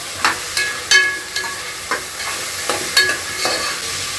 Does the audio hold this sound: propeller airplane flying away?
no